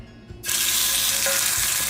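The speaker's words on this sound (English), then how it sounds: "I'm going to add my lamb chops so I could get like a nice sear" Lamb chops hit a hot pan and burst into a loud, steady sizzle that continues without pause.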